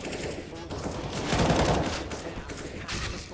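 Counter-Strike gunfire from a Team Liquid match at the Faceit Major London 2018, a dense burst of shots and sharp cracks packed into a few seconds, loud and continuous, with a commentator's voice running underneath.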